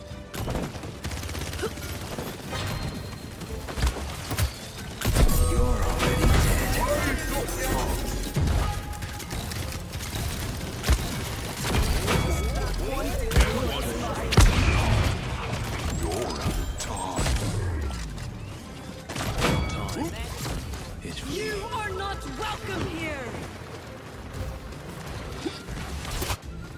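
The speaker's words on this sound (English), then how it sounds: "Enemies are firing on me!" Gunfire and mechanical clatter from enemies in the game Paladins, with bursts of shots, whooshes and crashes mixed into a dense, busy battle soundscape over most of the stretch.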